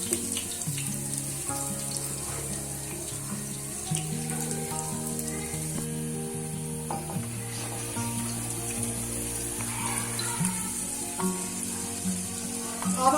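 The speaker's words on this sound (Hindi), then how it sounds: "अब मैं इसमें लहसुन डालूंगी, चॉप किया हुआ।" Chopped garlic sizzling in a hot pan for chicken hot and sour soup, a steady frying hiss under a low background hum and tonal music.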